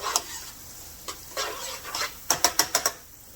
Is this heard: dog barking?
no